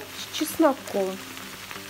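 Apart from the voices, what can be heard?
potatoes frying with onion and garlic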